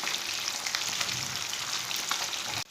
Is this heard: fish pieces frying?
yes